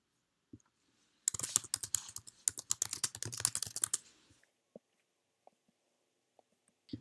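Typing on a computer keyboard while working in Adobe XD: a dense burst of rapid key clicks for about three seconds, then a few isolated taps in an otherwise quiet room.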